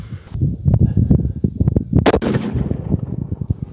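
Tikka rifle in 7 PRC firing a 195 grain EOL bullet outdoors, one sharp loud report midway, preceded by rustling and handling sounds and followed by a fading rumble.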